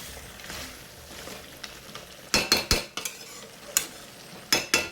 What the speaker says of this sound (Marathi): हे खोबरं पण ह्याच्यावर चांगलं भाजून घेते